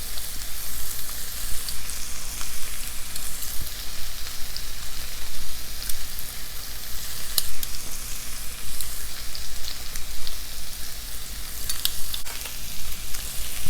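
Crushed garlic and vegetables sizzle loudly and continuously in a hot pan with peppers and sausage, a dense close frying hiss with occasional stirring clicks, no voices.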